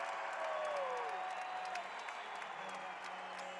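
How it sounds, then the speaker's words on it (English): A home basketball crowd cheers and applauds steadily, a dense, loud roar of voices that swells and holds throughout at an arena game against Fresno State, with whistles and shouts rising above the din. "you don't want this crowd to get going if you're Fresno, and here it comes"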